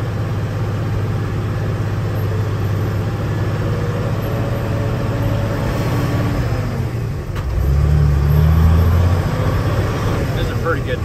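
A dump truck's diesel engine rumbles steadily at idle, loud and close, with a deep low drone that swells briefly partway through before settling back.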